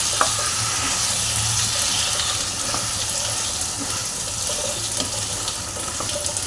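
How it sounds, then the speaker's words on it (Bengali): Water poured into sizzling spice paste in a pan for a Bengali prawn and elephant-foot yam dish, giving a steady loud watery hiss and sizzle with faint stirring clicks, continuous throughout and no talking. "এটার মধ্যে একটু সামান্য জল অ্যাড করব, যাতে মশলাটা না পুড়ে যায়"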